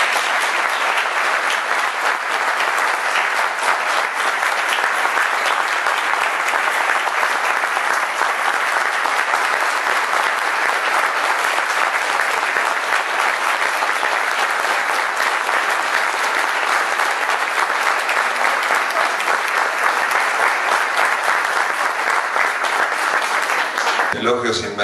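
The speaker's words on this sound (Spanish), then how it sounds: "Señoras y señores, lo recibimos con un fuerte aplauso." Audience applause welcoming a guest at a talk about the Malvinas war, loud, dense and sustained clapping from a large crowd with no break, ending abruptly.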